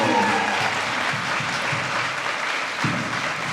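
Audience at a past and present staff luncheon gives a round of applause, a loud continuous patter of clapping sustained through the whole stretch, heard close with no voices over it.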